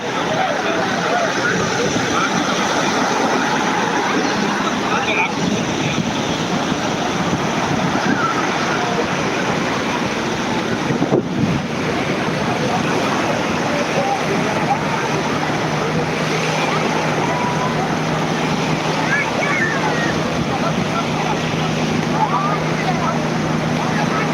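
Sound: sea waves on an Italian beach

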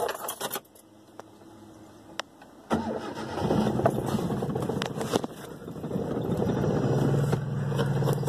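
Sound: car engine starting hard with ignition coil connector disconnected

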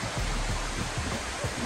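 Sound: waterfall pouring down into a valley on Kauai

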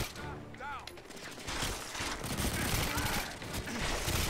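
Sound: pistol gunfire in a video game

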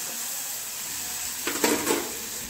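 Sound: semolina with sugar and turmeric being mixed and roasted in a pan

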